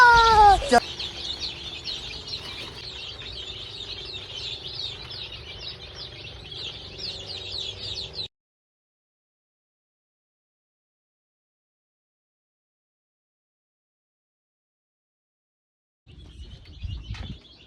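Chickens on a poultry farm cluck steadily in a dense, continuous chorus for several seconds, then the sound cuts out and returns briefly near the end.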